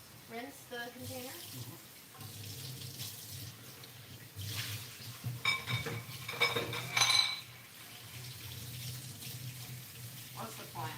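Tap water runs steadily into a sink while a plastic container is rinsed, with faint clinks of dishes and soft background voices talking.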